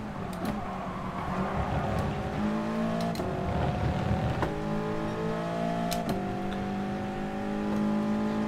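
A Toyota 86 racing in Gran Turismo Sport, its engine climbing in pitch as it revs through the gears, with gear-change drops, sharp clicks, and a sustained high whine at speed.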